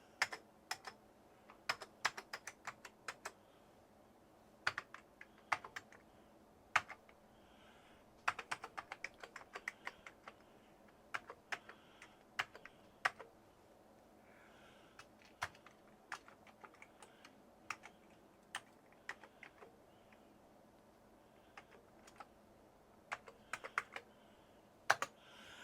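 Amiga A1200 keyboard keys typed in irregular bursts of sharp, close clicks and clacks, with short pauses between runs and no voices.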